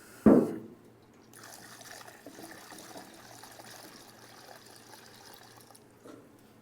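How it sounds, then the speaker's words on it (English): Triple QX brake and clutch cleaner is poured into a non-aerosol spray bottle. A sharp knock starts the fill, then a steady soft trickle of liquid runs for several seconds, quiet and alone, and a faint clunk comes near the end. "Let's get it filled up. Just using a bit of triple QX brake and clutch cleaner."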